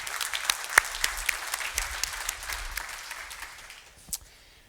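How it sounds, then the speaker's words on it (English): Round of applause from IBM employees for customers and partners at a corporate software day, scattered individual claps over a soft crowd wash, moderately distant and fading toward the end. "Please, IBMers, give a round of applause to our customers and partners"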